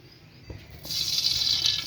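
Water from boiled rice being drained off: a soft clunk, then a steady, hissing stream of water pouring out that continues to the end.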